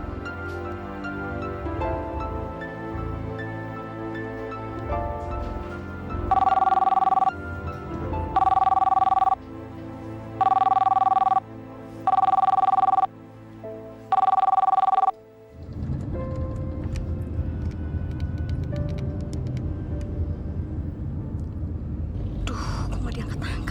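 A telephone rings unanswered in a domestic drama scene: five evenly spaced double-tone rings stand out over a low background, then a louder rumbling ambience takes over with muffled voices near the end.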